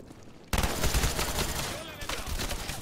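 Hipfire gunshots in the video game Black Ops, a rapid burst of fire starting abruptly and continuing for a couple of seconds, with a second burst near the end.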